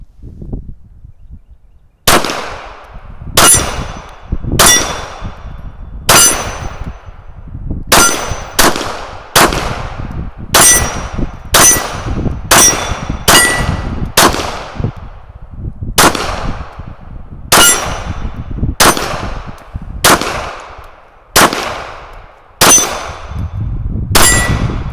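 Nine-millimetre cartridges dropped one by one into an American Speedloaders centre-fire nesting magazine loader, giving about a dozen sharp, close metallic clinks at uneven intervals with short ringing tails, with no speech.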